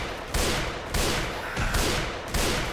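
Gunfire in the zombie shooter Left 4 Dead 2, a steady run of four heavy bursts roughly every half second, dense and loud with no talk over it.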